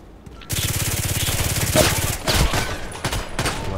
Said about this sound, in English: Okay, I can shoot semi-automatic. I'm really fast with this weapon.